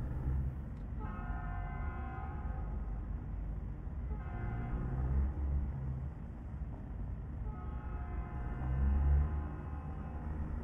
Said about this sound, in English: Train scared the shit out of me.